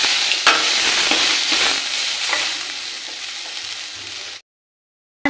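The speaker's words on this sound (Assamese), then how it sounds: "এতিয়া এইখিনি অকণমান লৰাই থাকিব লাগিব এনেকৈ ভাজি ল'ম" Chutney ingredients with coriander fry and get stirred in a pan, giving a loud, close sizzle dotted with scraping spoon clicks, then cutting off abruptly into silence.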